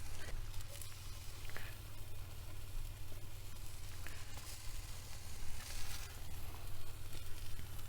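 Tofu fries in a pan on a camp stove during vanlife stir-fry cooking, a steady close hiss and crackle with a constant low hum underneath, no speech over it.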